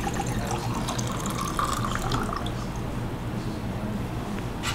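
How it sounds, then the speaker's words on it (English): Brewed black tea steeped with cordyceps pours in a steady, continuous liquid stream, with a faint trickle and splash that hold at an even level throughout, no voices. "Pouring time."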